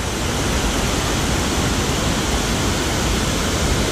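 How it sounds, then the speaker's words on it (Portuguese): Small waterfall formed where a stream has been dammed, a dense, steady rushing hiss of falling water that fills the whole clip, close and loud, with no voices. "Represaram e virou tipo de uma cachoeirinha aqui, ó."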